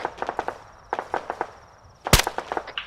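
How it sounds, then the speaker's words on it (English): Gunfire during a Marine squad's field crossing toward a comms tower in a Russian-target raid: scattered sharp pops in irregular bursts at mid distance, then one loud close crack followed by another quick volley. "Don't worry about the gunfire"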